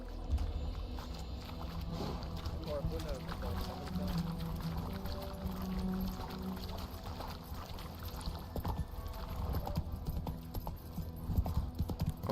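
Horse hooves clip-clopping at a gallop in a video game, a continuous quick rhythm with game ambience and occasional background speech mixed in.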